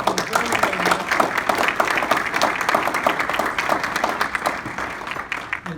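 Audience applause at an early-morning St. Patrick's Day celebration, a large outdoor crowd clapping steadily and densely for the whole stretch, loud and close, with no speech over it.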